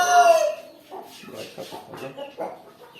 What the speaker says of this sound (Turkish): Arkadaşlar şimdi yavaş yavaş kızan tavuklarımıza geçelim